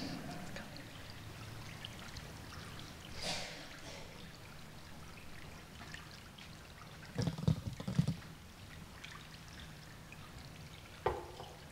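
Tap water from a kitchen faucet pours in a soft, steady trickling stream, quiet and close, with a few louder splashes and knocks partway through and no voices.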